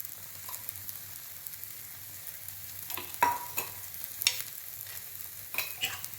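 A snack fries in ghee in a pan with a soft sizzle, while a spatula scrapes and flips it in a few sharp clinks and bursts, close and fairly quiet.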